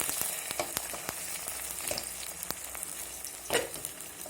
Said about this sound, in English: Now I've retained the same oil. I'm going to quickly add the egg that I have taken.